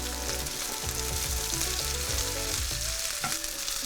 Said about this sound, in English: Now I'm going to add the ginger, garlic and the chilies and then give it a couple of minutes to cook.